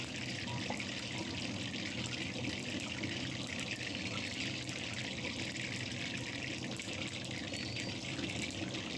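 Potato and eggplant cutlets coated in besan batter fry in hot oil, giving a steady, dense hiss and sizzle that runs unbroken and close up throughout.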